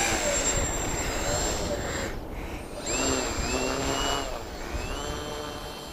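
Engines of a Be-12 model seaplane run on the water with a steady whining drone, rising and falling as the throttle changes, with a brief dip in the middle; no speech is heard.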